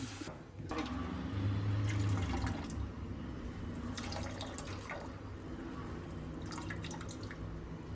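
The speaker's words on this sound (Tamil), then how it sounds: "அந்த துணியில் வடிகட்ட போகிறேன்." Water pours and trickles steadily through a cloth strainer as a rasgulla mixture of curdled milk is drained, a continuous close splashing flow with some dripping, heard alone without talk.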